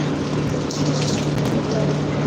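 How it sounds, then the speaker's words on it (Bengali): Steady rain falls outside on a rainy night, a dense, continuous wash of patter with a constant low hum underneath, unbroken throughout. "বৃষ্টি পড়তেছে বাহিরে"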